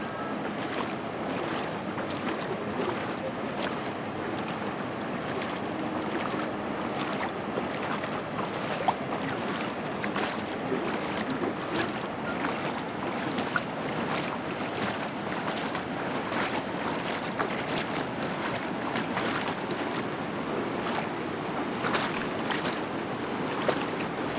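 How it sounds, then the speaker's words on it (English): Water pours over a dam spillway, recorded from on top of the spillway: a steady, broad rushing roar that continues unbroken with no talk. "the water is still over the spillway."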